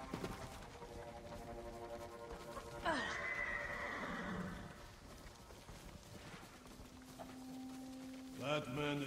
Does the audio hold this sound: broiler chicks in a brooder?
no